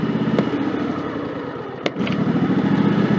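A Craftsman 3000 series riding mower engine stalling when its blades are engaged, a close, loud running drone that sags and stumbles briefly before picking back up.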